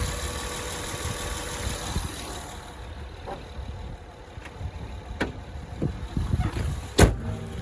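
A 2015 Honda Odyssey EX-L minivan with a 3.5 liter engine idles smoothly at a steady low hum, with a few faint clicks and taps near the microphone.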